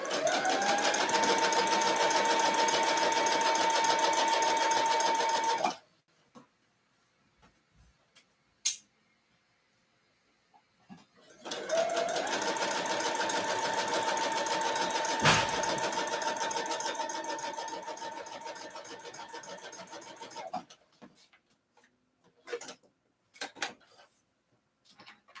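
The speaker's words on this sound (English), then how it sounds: "So I'm going to serge it." A serger sewing machine stitching a garment sleeve, a loud steady mechanical whir running about six seconds, a pause with small handling clicks, then a second long stitching run and scattered taps.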